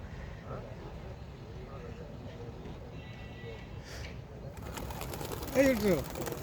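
Pigeons at a pigeon club colouring tournament, with a short burst of throaty cooing near the end over a steady outdoor background of murmuring voices and distant traffic.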